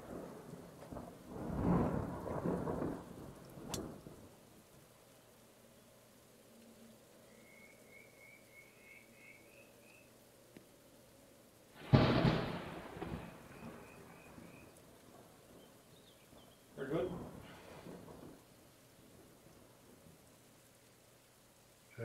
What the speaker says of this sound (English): I've just got the lightning and thunder again